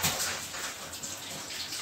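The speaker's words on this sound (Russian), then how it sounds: "Будем сейчас разливать воду в наши баночки" Boiling water is poured from a large pot into glass jars for pickling cucumbers, making a steady, continuous splashing gush close by.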